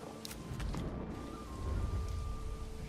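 Thunder rumbling under steady rain in a video game, a constant hiss of falling rain with low rolling thunder swelling through the middle and later part.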